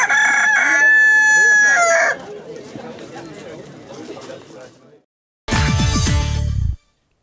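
A rooster crows loudly and close, with a long cock-a-doodle-doo at the start and another sharp crow near the end, set among clucking and farmyard chatter, with someone speaking Dutch in between.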